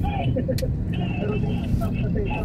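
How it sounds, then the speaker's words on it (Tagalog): Sunday road traffic on EDSA between Estrella and Magallanes in Manila, a steady rumble of engines and passing vehicles heard from inside a car, with people talking over it throughout. "Sunday traffic."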